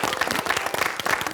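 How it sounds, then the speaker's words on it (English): Audience at a comedy improv show in Kelowna claps in a brief, dense burst of applause, close and lively, with no talking over it. "A round of applause for very funny Karliana."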